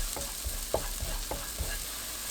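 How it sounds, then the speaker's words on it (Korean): Minced garlic and green onion stir-fry in cooking oil over medium heat, producing a soft, low sizzle. Several gentle stirring strokes scrape through the pan at a relaxed pace. "팬에 식용유 1큰술, 다진 마늘 1큰술, 파 넣고 중불로 30초 볶아주세요."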